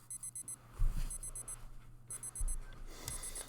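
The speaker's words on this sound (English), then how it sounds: "I wake up the next morning early as planned. I turn off the alarm and sleepily sit up." An alarm clock rings in a visual novel game, repeated bursts of rapid high electronic beeping in regular groups, moderately loud over a soft background with a few low thumps.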